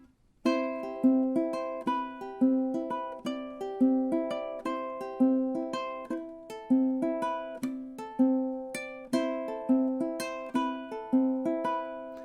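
A ukulele is fingerpicked alone, playing the intro of a song in a steady, even pattern of bright notes that ring clearly throughout.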